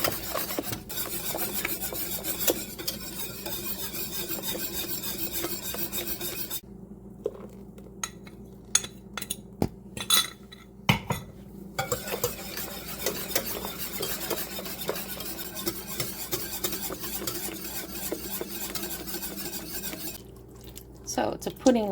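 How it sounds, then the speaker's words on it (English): Egg custard for crema catalana whisked steadily in a pot, a continuous scraping, rasping stir with metal-on-pot clatter, close and fairly loud, pausing briefly midway before resuming. "to whisk constantly in the pot because you do not want to scramble the eggs"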